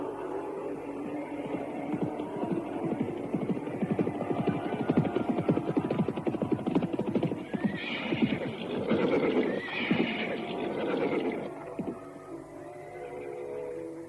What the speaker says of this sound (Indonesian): Jaka Badak terus mengejar arah suara-suara ringkik kuda di pinggir hutan.